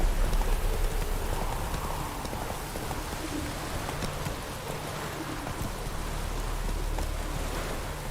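A horse gallops through the rain in The Witcher 3 video game, with a steady run of hoofbeats under a constant soft hiss of falling rain, moderately quiet.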